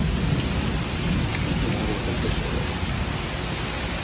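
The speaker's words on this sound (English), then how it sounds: "it's showing how bad this rain is coming down" Heavy rain pours down steadily at a Walt Disney World resort, a loud, continuous broadband hiss of rain hitting the ground and puddles with no breaks.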